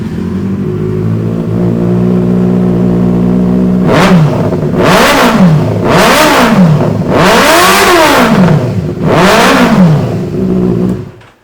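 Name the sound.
Benelli four-cylinder superbike with aftermarket exhaust revving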